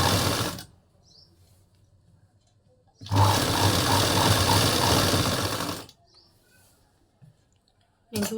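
A sewing machine stitches a fall onto a saree in two close, loud bursts, the first ending early and the second running steadily for about three seconds, with a quiet pause between and another start at the end.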